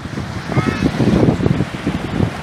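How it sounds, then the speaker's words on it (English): Ocean surf washing around someone standing in the water off Galveston, a steady broadband rush of waves with wind buffeting the microphone throughout. "This is what Godzilla uses as his bathtub, the Galveston Ocean, and I'm standing in it"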